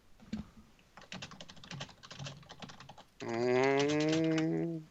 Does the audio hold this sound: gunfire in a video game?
no